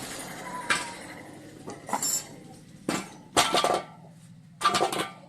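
Sharp metallic clinks and knocks of tools against a motorbike wheel rim as the old tyre is pried off, a few scattered bursts with short pauses between them, close and fairly loud.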